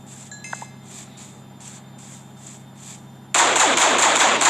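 Rapid bursts of gunfire from soldiers being shot in a Minecraft battle, a row of evenly spaced shots that gives way to a loud, dense roar of fire near the end.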